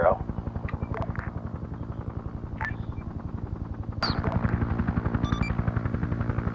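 Continuous rapid machine gun fire rattles at a steady rhythm throughout at a distance, with sharp reports and an 81mm mortar impact standing out on a live-fire range with air support.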